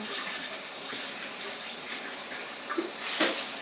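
A steady, close pouring gush of liquid batter onto a cooking surface, continuous and broadband, ending with a few soft splashes as the stream tapers.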